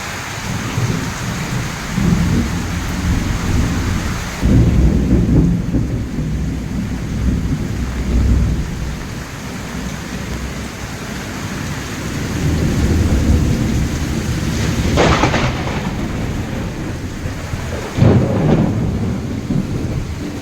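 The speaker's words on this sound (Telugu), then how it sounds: "ఘోరంగా పడుతుంది వర్షం" Heavy night rain pours steadily over farmland with a roaring hiss, low rumbling swells underneath and a couple of sharp louder bursts toward the end.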